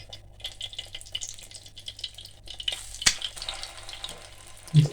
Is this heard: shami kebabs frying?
yes